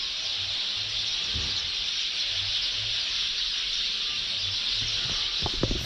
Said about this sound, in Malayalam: ഫുള്ള് കിളികളാണ് കേട്ടോ.